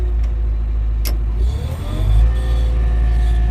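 Diesel engine of a Volvo EWR150E wheeled excavator, a loud steady low rumble that rises as it accelerates midway, with a brief click and faint whine, no talk.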